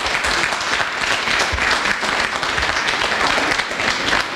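Dense, steady audience applause fills a large hall during a papal general audience catechesis, a continuous loud wash of many hands clapping without a break.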